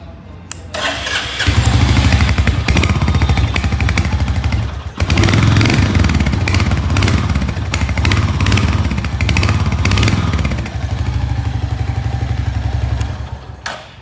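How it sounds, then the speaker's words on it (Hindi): A Royal Enfield Hunter 350cc motorcycle fires up with a thud, then its single-cylinder engine settles into a loud, close, steady thumping exhaust note with slight rev changes before cutting off near the end. "कुछ इस तरीके का स्पोर्टी एग्जॉस्ट नोट आपको इस बाइक का सुनने को मिल जाता है"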